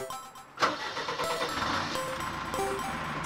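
A 1987 Toyota Land Cruiser with a 2.8 turbo diesel catches and settles into a steady, fairly loud idle after a sharp start, the engine rumbling close by without any voices.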